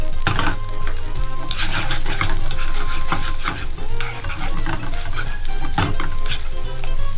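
Small seafood pieces being tossed and stirred in a frying pan for black ink tagliolini, a loud dense sizzle with continuous scraping and clatter of the utensil against the pan, close up.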